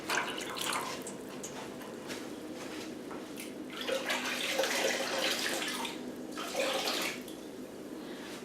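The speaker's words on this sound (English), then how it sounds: "I just stir that around" Citric acid water stirred by hand in a dye pan gives soft sloshing and trickling splashes that come and go, with gentle drips, fairly close and moderately quiet.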